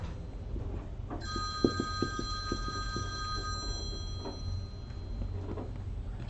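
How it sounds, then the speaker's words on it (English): A telephone rings repeatedly in a quiet room, a steady electronic bell with a faint ticking underneath, moderately loud and not covered by any talk. "The phone's ringing."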